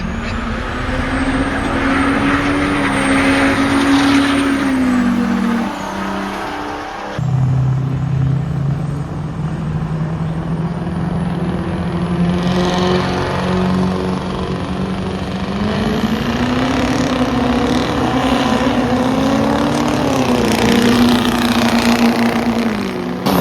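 A show truck's diesel engine drones loudly in fifth gear at a truck show, a steady close roar with slowly shifting pitch and a brief drop partway through.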